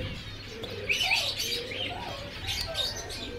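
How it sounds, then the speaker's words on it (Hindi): A sunshikan songbird sings at a Sunday bird market in Quetta, its chirps and short warbles rising over a steady crowd and market murmur along with other distant birds, moderately faint. "इसको कहते हैं सनशिकन, और ये यहाँ पहाड़ों में पाई जाती है और बहुत ही खूबसूरत आवाज़ करती है"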